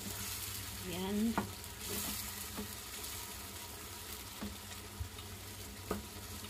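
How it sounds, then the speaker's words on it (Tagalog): Tomatoes sautéing in a covered pan give a low, steady sizzle, with a few soft knocks and stirring clicks near the start and scattered faint taps later. "At takpan at hayaang maluto."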